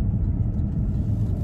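A 2015 Porsche Panamera GTS being driven, heard from inside as a steady low engine and road rumble, continuous and fairly loud with no one talking.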